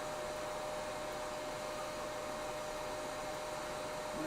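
Hair dryer blowing steadily to dry freshly applied black paint, a loud, constant rushing hiss with a faint motor whine throughout, close up and alone.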